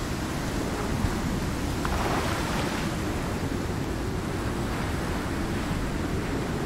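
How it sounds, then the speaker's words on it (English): Steady heavy rain falls in a survival video game, heard from inside a cave as a constant dense hiss with no talking. "even though it's still raining in our cave"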